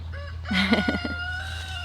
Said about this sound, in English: Chicken. Leave me alone. Chicken's so nice. Chickens.